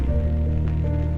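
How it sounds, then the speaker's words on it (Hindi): Steady non-stop rain falls on a Himalayan trek route, heard as a brief, even patter over a low constant hum, close and fairly loud with no voices. "दिन के 1 बज चुके हैं लेकिन बारिश नॉन स्टॉप है।"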